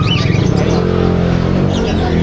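Small birds chirp and tweet continuously at a crowded Filipino pet bird market, a dense layer of high calls over a steady hum of background chatter and market noise.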